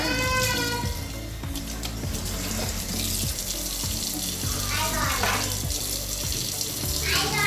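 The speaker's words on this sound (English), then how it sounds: "we'll just just gonna splash it with some water" Water splashes and trickles close by onto a child's curly hair, irregular wet sloshing against a background hum, with no clear speech.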